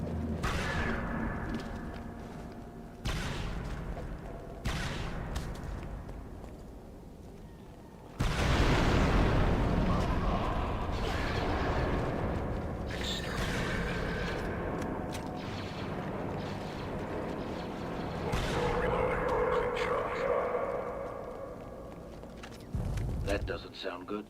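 Muffled, rumbling explosions and blasts from a battle upstairs in a Star Wars video game, coming in heavy bursts with gunfire-like pops, while people talk over the game sounds.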